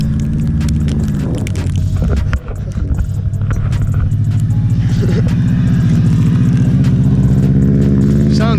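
A car engine with a deep, throaty aftermarket exhaust rumbles steadily and loudly nearby, idling and revving slightly throughout.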